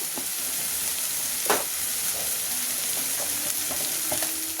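Ginger garlic paste with coriander powder frying in a pan for an egg curry, a steady close sizzle with a few soft stirring scrapes and one brief louder clink early on.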